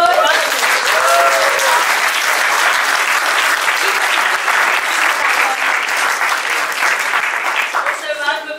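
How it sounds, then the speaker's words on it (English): Wedding guests burst into loud, sustained applause, a dense wash of many hands clapping at close range that holds steady for several seconds, with a few voices breaking through near the start and end. "So, round of applause."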